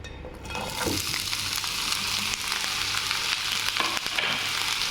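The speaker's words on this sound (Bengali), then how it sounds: "অলিভ অয়েল দিয়ে রান্না করি এখন আমি পেঁয়াজ আর ভেন্ডি একসাথে দিয়ে দিব" Onion and okra frying together in olive oil, a steady loud sizzle and crackle with occasional stirring scrapes throughout.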